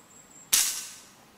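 An FX Revolution semi-automatic PCP air rifle fires a single short, sharp crack that fades quickly against a quiet background.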